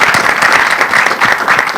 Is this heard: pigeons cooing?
no